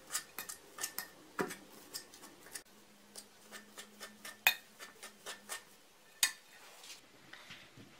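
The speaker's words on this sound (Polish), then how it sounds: "Rozgniatam je widelcem." Boiled potatoes mashed with a fork in a bowl: a brisk, irregular run of close, light clicks and taps of metal against the dish, with no talk.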